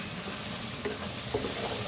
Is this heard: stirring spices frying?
yes